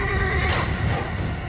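A horse neighs in a loud, close whinny lasting about a second and a half, its wavering call rising and falling over a steady background.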